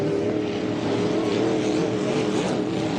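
Hydroplane racing boats running at the APBA Gold Cup regatta in Madison, a loud, steady engine whine with a wavering pitch droning continuously across the course.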